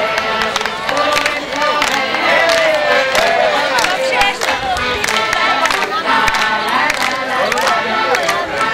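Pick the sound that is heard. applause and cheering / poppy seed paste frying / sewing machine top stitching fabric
applause and cheering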